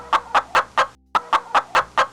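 A human voice imitates a chicken clucking in a series of eight sharp, evenly spaced clucks, close and loud, with one short pause partway through.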